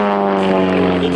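A Pitts S-1D propeller aerobatic aircraft flies a display with loops and rolls, its engine a loud, close, steady buzzing drone rich in harmonic tones, heard alone for about a second.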